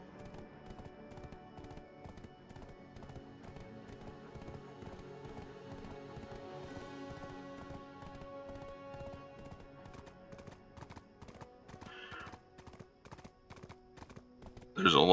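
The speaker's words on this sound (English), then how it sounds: "There's a lot of dead air in a video where you're just riding the horse to get over there." A horse gallops in the online game Black Desert Online, a steady, rhythmic clip-clop of hooves repeating evenly throughout at moderate volume, with a brief louder burst at the very end.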